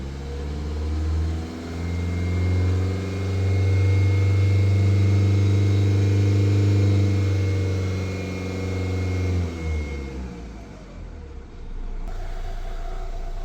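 Fiat Ducato motorhome diesel engine, with a cracked DPF and the engine management light on, revved and held at a steady 3000 RPM as a loud, even drone that holds for several seconds, then drops back toward idle.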